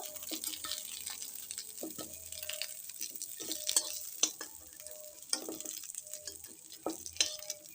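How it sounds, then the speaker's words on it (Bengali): Cauliflower frying in oil in a pan gives a soft, steady sizzle broken by frequent light scrapes and clinks of a spatula stirring and turning the pieces, fairly quiet and close. "ফুলকপিগুলো ভালো মতো ভাজা হয়ে গেছে"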